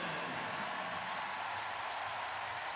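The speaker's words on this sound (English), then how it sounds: "We're going to take a listen to this crowd real quick." A home crowd at an NC State women's basketball game roars steadily, a broad wash of cheering and applause that stays loud and even throughout, with no clear single voice standing out.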